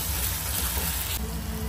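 Green chilies and ginger garlic paste frying in hot oil with onions for a prawn curry, a steady close sizzle throughout that shifts slightly in tone partway as the fresh paste goes in.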